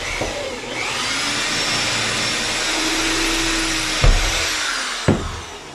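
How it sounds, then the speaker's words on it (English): A power drill whirs steadily for several seconds close by, drilling a pilot hole in metal framing, with a couple of sharp knocks near the end as it stops. "And I'll drill another one here."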